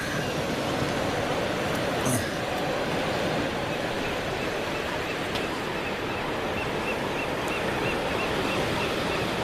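Ocean waves wash in over rocky tidepools at Heceta Head, Oregon, a constant dense surf hiss close by with a few faint sharp knocks, steady throughout.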